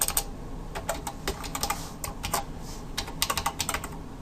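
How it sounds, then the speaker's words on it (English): Fingers type steadily on a computer keyboard while coding an HTML page, producing rapid, uneven clusters of close, crisp key clicks with brief pauses between bursts and no talking. "And bear with my typing."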